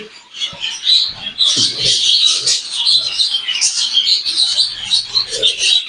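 A young budgerigar chick that has just started eating on its own gives rapid, high, scratchy chirps and squeaks, close and continuous, with faint sounds of movement underneath.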